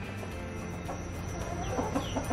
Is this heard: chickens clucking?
yes